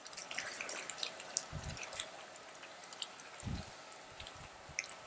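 Quiet bubbling and wet squishing from a pot of rice simmering in coconut milk, with a couple of soft low thumps as it is stirred through thick liquid.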